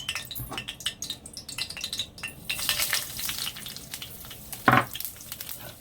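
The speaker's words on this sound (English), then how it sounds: "I'm going to let it fry and fry" Cumin frying in a pot of oil for a Guyanese-style curry beef, a steady close sizzle broken by faint utensil clinks and a brief louder stir near the end.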